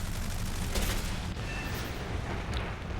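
Aircraft cannon fire from a Japanese fighter in War Thunder, a short loud burst of rapid shots over steady engine roar, lasting a few seconds.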